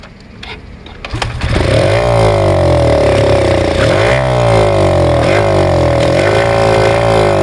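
A motorcycle with its carburetor open is kick-started: a short clatter, then the engine catches and runs loud and close, its revs swelling and falling several times in a steady drone.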